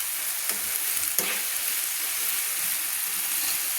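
Masala with coriander paste sautés for a katla fish curry, a loud, close, dense sizzle with a couple of brief scraping stirs, no speech.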